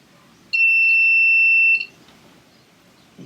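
A continuity meter used on a Yamaha SY85 power supply gives one steady electronic beep lasting just over a second, clear and close against a quiet background.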